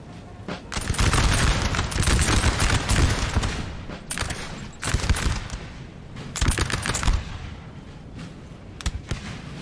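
Dense musket volleys crackle continuously in the Napoleon Total War video game, with overlapping bursts of gunfire and heavy booms on a loud battlefield. The volleys swell and ease in waves throughout.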